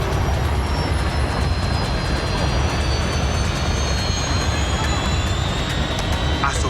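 An airliner rolling on a runway in a TV drama, a loud, steady engine roar with a rising high whine, continuous and close.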